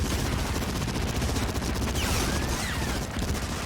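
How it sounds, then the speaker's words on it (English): An MG42 machine gun fires in continuous rapid bursts in the video game Medal of Honor Frontline, loud and dense, with distant gunfire mixed in and no talk. "So you want to hop on this machine gun, on this MG42, and clear those MG nests over there"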